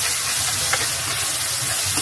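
Onions fry in oil for hilsa fish dopeyaja, a steady close sizzle and hiss running throughout with no talking.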